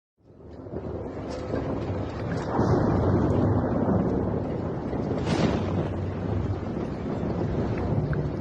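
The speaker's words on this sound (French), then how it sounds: "Il arrive sur nous, cet orage?" Deep rumbling thunder from an approaching thunderstorm rolls under strong gusting wind buffeting the microphone, a sustained loud roar throughout.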